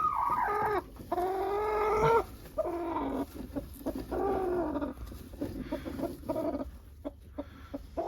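A broody dwarf Cochin hen clucks and churrs close up, long drawn-out calls broken by shorter grunting clucks, steady for several seconds with no speech.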